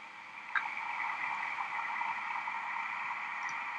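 Amplified ant sounds recorded in a nano lab form a steady, dense hiss with faint crackle and one small tick near the start, continuous and even in level.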